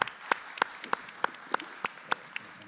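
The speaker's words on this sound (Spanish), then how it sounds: "Un aplauso para ellas." Slow, evenly spaced claps at a local development training presentation, about eight sharp beats in a steady rhythm over light background noise, close and distinct rather than a full crowd ovation.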